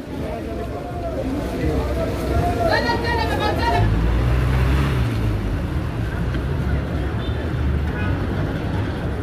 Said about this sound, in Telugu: మటాటు బస్సెస్ ఉన్నాయండి. ఇక్కడ బస్సెస్ని మటాటు అంటారు.